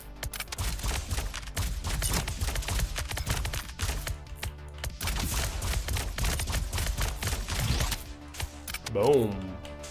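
Constant rapid gunfire from the horde survivor game Core Devourer, with fast bursts of shots for several seconds and someone talking over it.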